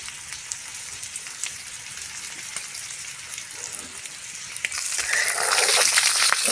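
Beef shank for bulalo sautéing in a pan with bay leaf and crushed black pepper, a steady soft sizzle and crackle that swells louder and brighter near the end, with no voices.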